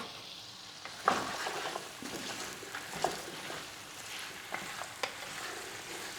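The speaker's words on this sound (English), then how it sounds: "we go in with all our vegetables so we get them sauteed also" Mixed vegetables sautéing in hot oil in a pot for beef stew, a continuous soft sizzle broken by a few sharper scrapes and clatters of stirring.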